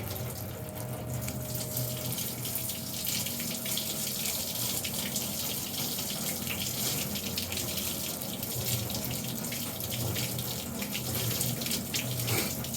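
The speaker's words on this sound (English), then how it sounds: "we're going to use low pressure rinse now, first on the snow foam" Steady low-pressure water spray rinsing snow foam off a car during a hand wash, a continuous even hiss and splash with no talking.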